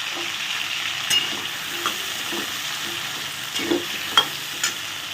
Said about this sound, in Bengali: এবারে ওই তেলের মধ্যে আলুটা ভাজবো